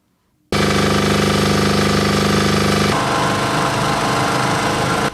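A loud electric generator engine starts up abruptly and runs steadily with a dense, rattling drone, its tone shifting partway through, with no voices.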